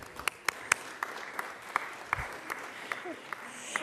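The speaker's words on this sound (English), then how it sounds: "Golf clap." Legislators in a state senate chamber give a light, polite golf clap, a sparse scattering of distinct individual claps at a quiet level, with faint voices underneath.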